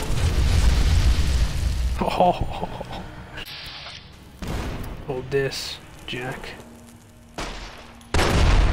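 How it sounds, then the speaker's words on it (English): Explosions in the Fallout New Vegas video game: heavy booming blasts open the clip and return near its end, with bursts of gunfire-like crackle in between and someone talking over the middle. "Explosions."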